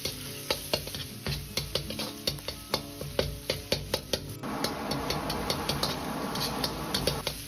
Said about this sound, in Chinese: 油热后保持中火下入肉末煸炒，这样炒肉末就不会粘锅。